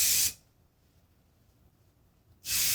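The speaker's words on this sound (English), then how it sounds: "So we're going to put a layer of the LaPlay hairspray" LaPlay hairspray misted onto hair in two short, close hissing bursts, one at the start and one at the end, with near silence between.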